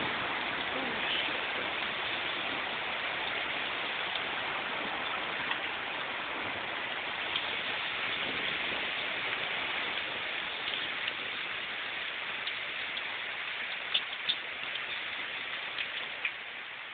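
Hail the size of eggs pours down in a storm, a dense continuous hiss of pelting ice with occasional sharper close impacts, steady and loud throughout, with no talking.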